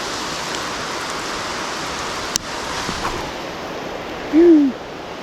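Heavy rain pours down during a rainstorm while fishing, a steady broadband hiss throughout, with a brief knock midway and a short hooting vocal exclamation near the end.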